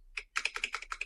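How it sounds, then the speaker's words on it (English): Fast typing on a computer keyboard during a Linux terminal session, a quick run of crisp, close key clicks at a low level with no talk. "Too fast with the keyboards here."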